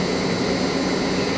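A Mori Seiki MV653-50 vertical machining center runs its spindle at 500 RPM in the low gear range, with a steady, loud whirring hum that holds even for the whole stretch.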